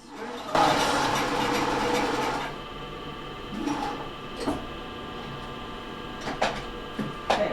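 A sewing machine runs a straight seam across fabric backed with stabilizer, starting with a steady close mechanical whir that then eases into quieter, intermittent stitching with a few short bursts.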